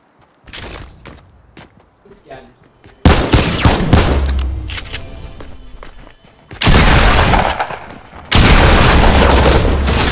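Rapid bursts of gunfire from a weapon in the video game Fortnite, loud and dense, coming in several long sustained volleys with brief gaps and scattered thuds between them, with a player's voice talking in places.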